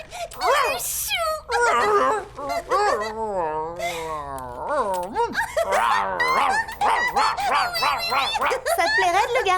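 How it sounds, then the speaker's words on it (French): A dog whimpers and yips in high, whiny cries, mixed in with someone talking over it. "Tu es un petit toutou très habile"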